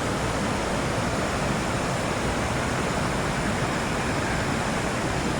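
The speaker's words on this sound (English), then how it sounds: "And then you got the falls here." Dillon Falls on the Rogue River pours and churns through whitewater rapids, a loud, close, unbroken roar of rushing water with no pauses.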